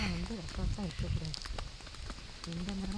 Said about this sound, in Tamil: ஐயோம்மா மழை வருதுமா.